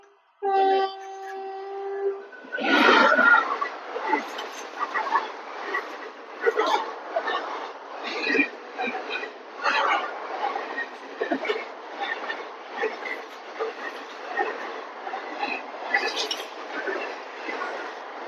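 Superfast train from Delhi rushing past a railway crossing, loud and close, opening with a sustained horn blast followed by a steady roar and rhythmic clatter of wheels over the track, with voices faintly under it.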